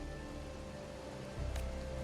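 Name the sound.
rain in the video game Wuthering Waves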